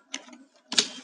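Two short bursts of keystrokes on a computer keyboard while entering code, each a quick cluster of clicks separated by a brief pause, close and fairly quiet with no voice over them.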